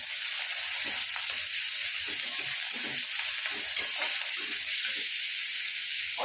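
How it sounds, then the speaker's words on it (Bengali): Chopped onion sizzles steadily in hot oil, a dense continuous frying hiss with occasional soft stirring knocks, close and alone with no talk. "পেঁয়াজটা একটু ভেজে নেবো ভালো করে।"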